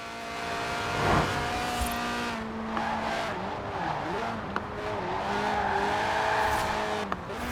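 A 1.8-litre, 190-horsepower Lotus Elise Sport 190 in Forza Horizon 4, sliding with a loud sustained tire squeal over a revving engine whose pitch rises and dips as it slides.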